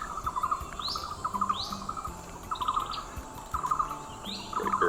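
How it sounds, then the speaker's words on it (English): Repeated high, sharp calls of a long-tailed broadbill in Vietnam in short bursts over a constant buzz of insects, some calls rising in pitch, with no voices. "one of my favorite birds in Asia, the long-tailed broadbill"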